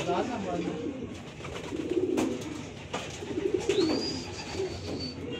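Racing pigeons cooing at a loft during a pigeon race arrival, soft low coos under steady background noise and occasional nearby voices.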